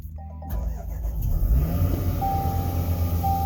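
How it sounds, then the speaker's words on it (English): A 2019 Range Rover HSE engine starts after an oxygen sensor replacement. A brief crank catches into a steady, low rumbling idle heard up close, while a thin electronic tone sounds near the end. "and now we turn the car on"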